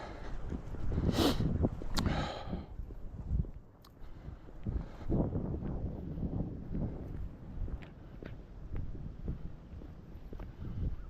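Gusty wind on a cold December walk outdoors buffets the microphone in irregular bursts, with rustling and scattered knocks as the blasts rise and fall.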